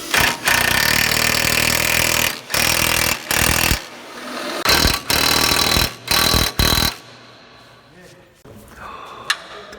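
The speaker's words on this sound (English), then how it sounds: "I like drilling holes and fresh stuff" Power drill boring holes during an intake manifold install on an AE86 Toyota, loud grinding bursts in several separate runs, stopping and starting, then quieter workshop noise.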